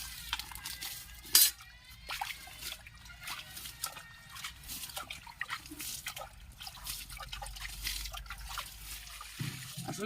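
Water is poured onto young bitter gourd (karela) seedlings in a field, giving splashing and trickling with drips and a few clinks, close by and fairly loud, with faint voices at times.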